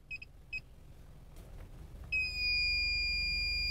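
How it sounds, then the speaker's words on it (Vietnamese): Zestech head-unit screen sounding car parking sensor obstacle warnings: a few short, sharp electronic beeps, then a steady continuous tone as the car gets close, fairly loud over a low engine hum. "nó tít tít ngay là có chướng ngại vật va chạm"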